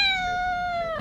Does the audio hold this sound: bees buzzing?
no